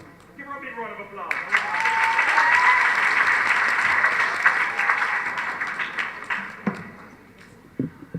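An audience at a Christian academy graduation ceremony applauds in a steady, full wash of clapping that swells and then slowly thins, with a voice audible at the start and a few scattered claps near the end.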